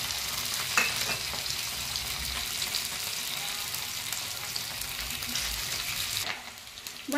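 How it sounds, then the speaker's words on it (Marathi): Potatoes frying in a pan, a dense continuous sizzle with occasional stirring knocks, close and steady before easing off near the end. "आमच्या आईला आवडत नाही म्हणून मी डायरेक्ट बटाटे फ्राय करून घेते."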